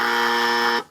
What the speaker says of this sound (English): I'm getting tired of hearing that buzzer, bro.